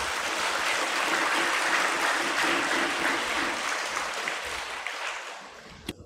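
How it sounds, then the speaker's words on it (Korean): Sustained applause from an audience at a lecture on Marxism, welcoming a guest speaker; the clapping holds steady, then fades out near the end, followed by a brief sharp knock. "큰 박수 부탁드립니다"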